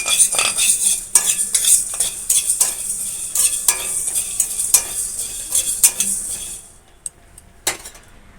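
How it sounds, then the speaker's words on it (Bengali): Whole coriander and cumin seeds dry-roasted in a dry wok, stirred with a utensil: steady scraping and light rattling clinks for most of the stretch, then a quieter tail with a few isolated taps. "এবার এগুলোকে আমি শুকনো খোলাতে মানে শুকনো কড়াইতে আমি নেড়ে একটু ভেজে নেব।"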